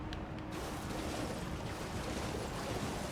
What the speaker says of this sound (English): The waterfall has stuff behind it, but this river does not just connect straight through. That is a huge-ass waterfall.